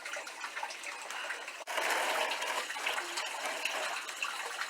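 Cold, dirty water rushes and gushes steadily through a frozen aquaponics system, a loud, close, broadband wash with a brief dip partway through before surging again.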